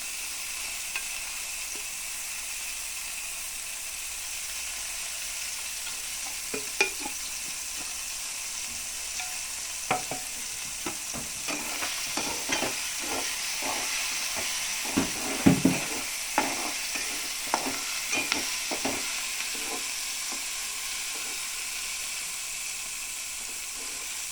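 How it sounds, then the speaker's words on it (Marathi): Capsicum sautéing in hot oil for pasta, a steady broadband sizzle throughout with scattered scraping stir clicks growing busier in the second half, close and alone with no talk. "शिमला मिर्च व्यवस्थित परतण्यासाठी आपण थोडं ह्याच्यामध्ये तेल टाकूयात."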